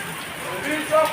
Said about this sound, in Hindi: ये देखो बारिश तो बहुत तेज़ हो रही थी।